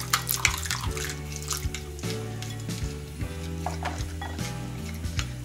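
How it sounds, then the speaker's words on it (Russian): Warm water poured onto powdered gelatin in a container, a running, splashing stream with gurgling and a few clinks, close and fairly loud, with no talking. "Я заливаю теплой водичкой."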